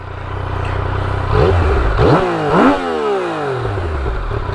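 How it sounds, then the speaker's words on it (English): A 2016 Yamaha XSR900 motorcycle engine with stock exhaust fires up and revs several times in sharp, rising bursts, then settles into a loud, steady idle close by. "So let's turn this bike on. Let's go find out how it sounds."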